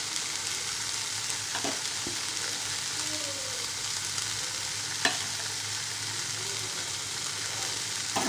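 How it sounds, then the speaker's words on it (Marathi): Mashed mixture with jaggery and ghee being stirred in a hot pan, a constant soft sizzle with occasional spoon taps and scrapes against the pan, close and unaccompanied by speech. "हे सगळं आपल्याला एकत्र करून 7 ते 8 मिनिटं मिक्स करून घ्यायचं आहे"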